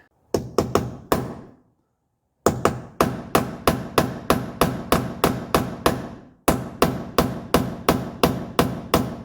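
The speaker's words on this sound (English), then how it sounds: "then you can knock it out with your hammer" Sharp metallic hammer knocks on a punch driving out a pin on a 1984 Mercedes 300SD, in quick bursts, a short pause, then a long steady run of evenly spaced blows, close and loud.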